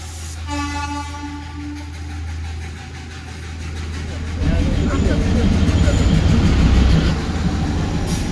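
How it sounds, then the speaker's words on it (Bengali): A Darjeeling Himalayan Railway narrow gauge toy train, 2 ft gauge, approaching on the hill line between Siliguri and Darjeeling, its engine rumble and horn toots swelling louder midway through with steady traffic noise and voices around. "পিছনে টয় ট্রেন আসছে দেখতে পাচ্ছি"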